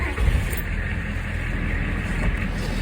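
A gasoline power washer engine runs close by, a loud, steady, rough roar that holds evenly for the whole stretch without pause.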